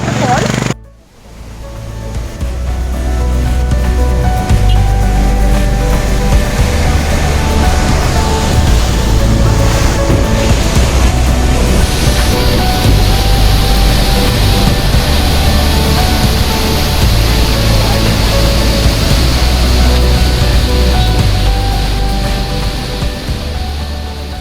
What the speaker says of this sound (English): So let me show you the waterfall.